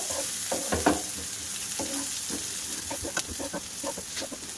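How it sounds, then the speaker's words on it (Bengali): Chopped onion sizzles in a hot pan, steady frying hiss broken by repeated scraping stirs of a spatula, close and alone without any talking. "পেঁয়াজটা একটু লাল লাল করে ভাজা করে নেব।"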